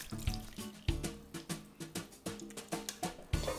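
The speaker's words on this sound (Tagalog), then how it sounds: "Ilagay na lahat ng tubig." Water poured into a pizza dough mixture of flour, sugar and yeast, heard as a series of close rhythmic splashing glugs.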